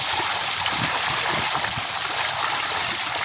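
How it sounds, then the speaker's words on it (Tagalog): Milkfish (bangus) feed vigorously at the water surface at morning feeding, making a constant, close rush of splashing and churning water. "napakalakas talaga kumakain ng mga bangus"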